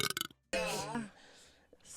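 A person burps deliberately, one long loud drawn-out belch following a few short vocal sounds and breaths, then quieter breathy noise trailing off.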